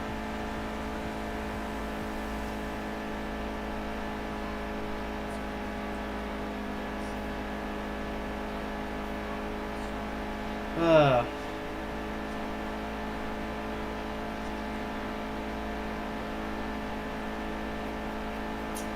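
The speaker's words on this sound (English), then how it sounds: "look at how low the revs are for the fourth gear" A NASCAR race car in the Heat 2 video game at Daytona, running at low revs in fourth gear: a steady, droning engine hum that barely changes, with one brief rising whine partway through.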